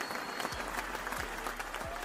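Crowd applause sound effect played during a live stream about Alabama spring football, a steady wash of clapping and cheering at moderate level, with a faint low hum underneath and no clear talk.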